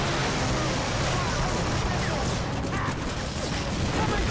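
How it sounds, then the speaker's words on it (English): A Panzer tank in a PlayStation 2 video game, heard as dense continuous rumbling battle noise with engine roar and gunfire blending into a loud, unbroken wash throughout. "That is a Panzer tank."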